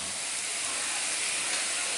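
Potato and flattened-rice chops shallow-fry in a little oil, giving a continuous close hiss that holds steady and fairly loud throughout.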